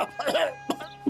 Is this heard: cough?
yes